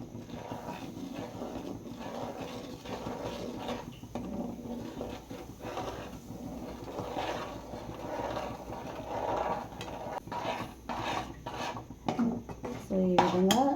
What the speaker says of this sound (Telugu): సో ఇప్పుడు వచ్చేసి మనం బొంబాయి రవ్వ తీసుకున్నాం కదా, సో ఇది కూడా యాడ్ చేసుకోవాలి.